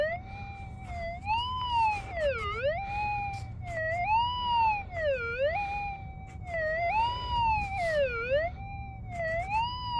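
A Garrett Axiom metal detector on a saltwater beach sounds over a possible iron target with a shovel close by, giving a loud, continuous warbling tone that sweeps up and down in repeated dips, like a siren.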